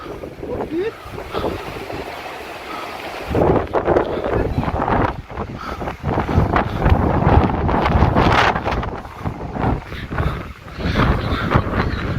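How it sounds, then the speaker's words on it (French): Strong wind buffets the microphone in loud, gusty rumbles, with a boat's motion and water noise underneath and no clear talk, on the crossing toward Île de Ré. "Désolé pour le vent les amis hein."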